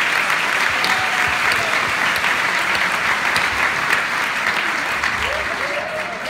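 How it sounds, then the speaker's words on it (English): Sustained applause from an audience of educators at a professional association's opening program, a dense steady wash of many hands clapping throughout, moderately loud and continuous with no break. "Let's give them another round of applause."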